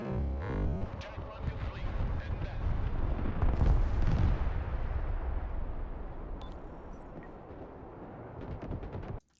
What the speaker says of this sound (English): My F-35 is just dropping a bomb, and this is when the AA team responds.